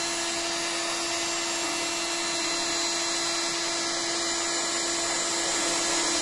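Heat gun warming plastic for a homemade phone holder, a steady blowing whine with a constant tonal hum, unbroken and fairly quiet throughout.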